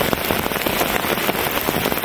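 Rain patters steadily onto a tarp pitched over a hooped bivy camp during a heavy thunderstorm, a dense, close, even drumming of drops with no pause.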